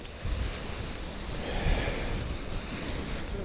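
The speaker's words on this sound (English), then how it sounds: "that's quite gusty" Gusty wind buffets the microphone outdoors, a continuous loud rushing roar that swells and eases slightly, with no voices.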